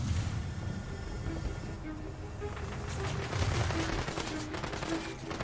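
Rapid bursts of gunfire from guns in Tiny Tina's Wonderlands fill the scene, dense and continuous over a steady game soundscape, with no one talking.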